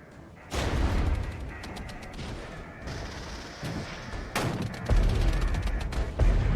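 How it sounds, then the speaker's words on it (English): Enemy artillery fire in the war strategy game Regiments, striking BRDM armoured cars: loud, overlapping booms and crackling blasts in dense volleys, with sharp impacts near 0.5 s and 4.4 s and a heavy rumble continuing throughout. "my BRDMs are getting killed by the enemy artillery"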